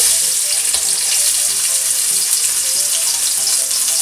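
Finely chopped onions frying in half a cup of oil for mash daal make a loud, dense, continuous sizzle with no voices.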